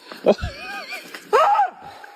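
A horse on a small-town outing in North Carolina neighs close by, a wavering whinny followed by a second louder, brassier call, with a thud of movement in between.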